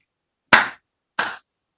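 A pair of crisp, close hand claps from a lecturer in a quiet room, the first louder than the second, each ringing briefly before silence returns.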